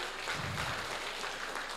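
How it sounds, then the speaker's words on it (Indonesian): A seminar audience claps in a continuous, moderately quiet patter that stays fairly even through the short stretch, with no voices over it. "Oke, tepuk tangan dong."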